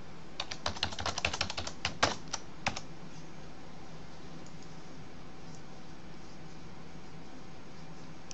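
Computer keyboard typing a Gmail username and password, a quick burst of clustered keystrokes over the first three seconds, then quiet room hiss with no further taps.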